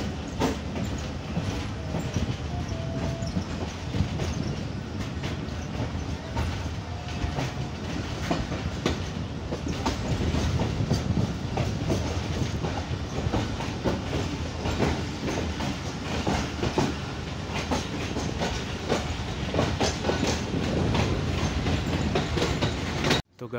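Close, loud rumble of the Bahauddin Zakria Express passenger train approaching Liaquatpur station in Pakistan, with rhythmic clickety-clack of wheels over rail joints and brief metallic squeals.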